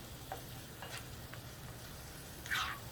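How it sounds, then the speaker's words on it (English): Chili powder, chili flakes and beef broth being stirred together in a skillet, a soft simmering sizzle under a few light scrapes of the spoon and a brief louder stir near the end. "Now I'm going to mix all this together"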